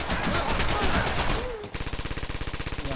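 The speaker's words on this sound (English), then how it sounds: "Both teams relying heavily on automatic weapons, as they well should." Automatic weapon fire in a competitive first-person shooter match, a dense mixed burst giving way to a steady, rapid run of evenly spaced shots, loud and close with no talk.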